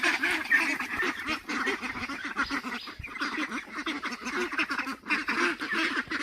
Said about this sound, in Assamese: এইখিনি হাঁহ হৈছে মোৰ নতুন বেষ্টৰ